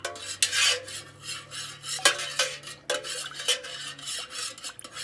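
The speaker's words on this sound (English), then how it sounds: "what I'm going to do is I am going to mix this for a good 5 to 10 minutes" Candle wax mixture being stirred in a container during handmade candle making, a steady run of light scraping and clinking strokes repeating close by, with no talking.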